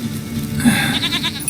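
Goat bleating in The Witcher 3, a single loud, close, wavering bleat lasting about a second over a low ambient drone.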